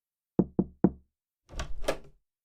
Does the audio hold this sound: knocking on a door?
yes